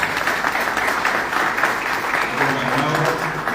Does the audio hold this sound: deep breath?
no